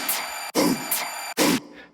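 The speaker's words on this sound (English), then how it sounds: "the drop effects that back everything up" Aggressive angry-dubstep drop effects from a full track, loud bursts of distorted, wide-band synth noise in four heavy hits with brief gaps, ending in a fading tail.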